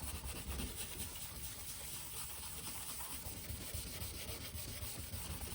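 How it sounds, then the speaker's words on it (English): A Scotch pad scuffs a car bumper with steady, close, abrasive rubbing, a continuous dry scrubbing hiss with no breaks. "Took a Scotch pad. Just going to scuff it. Scuff it until I see most of the white disappear."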